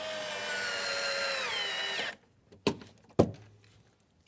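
A power drill drives Kreg screws during a Ford E-150 van build, giving a steady high whine for about two seconds, followed by a few sharp knocks and clunks nearby.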